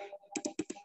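Keys clacking on a computer keyboard as an AutoCAD trim command is entered, four quick, close, distinct strokes in a short burst with no talking.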